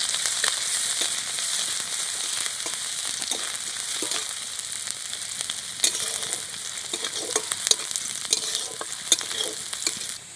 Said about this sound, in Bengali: কুচিয়ে রাখা রসুন দিয়ে দিচ্ছি, কুচিয়ে রাখা আদা দিয়ে দিচ্ছি, ভালো করে নেড়ে নেব।